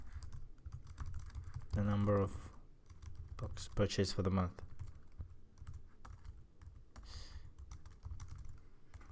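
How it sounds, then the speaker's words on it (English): Close computer keyboard typing while Java code is written, a run of quick, uneven clicks and taps, with someone speaking quietly in between. "Sorry, my typing is bad."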